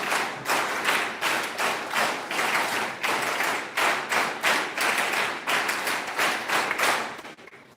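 Group of campers doing the NSS clap at the National Integration Camp, T.M.B.U Bhagalpur: a loud run of about twenty sharp, evenly timed claps in a steady rhythm, close by and with no talk.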